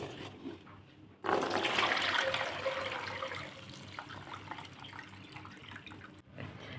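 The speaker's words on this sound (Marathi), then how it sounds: "आता हेही पाणी आपल्याला ओतून द्यायचं आहे" Water is poured off soaked wheat in a steady splashing stream that starts abruptly and runs on, trailing off near the end.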